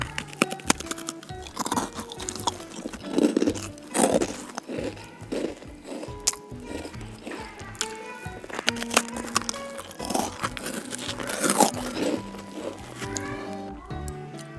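Someone bites into a freshly baked Beng-Beng chocolate cookie, a series of close, crisp crunches and chewing sounds repeating irregularly, with occasional talk in between.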